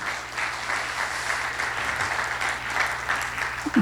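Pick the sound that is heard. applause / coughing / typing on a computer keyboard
applause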